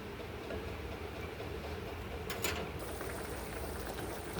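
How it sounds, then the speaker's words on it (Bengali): Curry broth with vegetables simmers at a boil in a pot, giving a faint, steady bubbling hiss close by, and a brief higher clatter rises near the middle. "ঝোল ফুটে গেছে"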